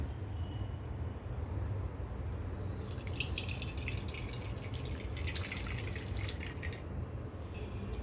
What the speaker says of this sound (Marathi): आता आपण हे सगळं जे पनीरचं जे पाणी आहे हे सगळं पनीर त्याच्यावरती आपण ओतून घेऊया